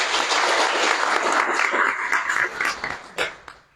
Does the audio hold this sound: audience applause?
yes